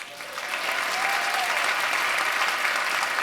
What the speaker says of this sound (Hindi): उनके लिए तालियां होनी चाहिए।